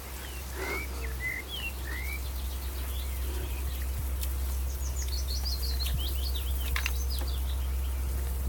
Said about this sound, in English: Peaceful along here, a lot of bird song.